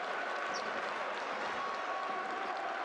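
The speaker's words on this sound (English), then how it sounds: "You can hear what it means to the crowd here in Georgia" A home crowd in Georgia cheers and applauds at a FIBA Basketball World Cup qualifier against Ukraine, a dense and steady wash of arena noise that holds for the whole stretch.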